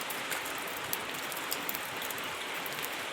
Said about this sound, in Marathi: आमच्याकडे तर लय पाऊस आहे